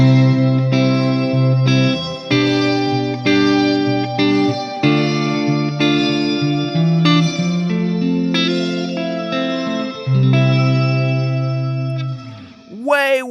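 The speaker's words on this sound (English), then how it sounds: "I dialed in the worst possible shimmer tone I could find on the Strymon Big Sky" Guitar through a bright shimmer reverb on a Strymon Big Sky pedal, sustained chords ringing with a glassy octave-up wash and long tails, closing on a quick upward pitch sweep.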